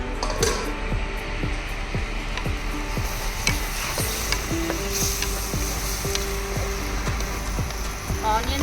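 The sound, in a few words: onions frying and being stirred in pan for egg masala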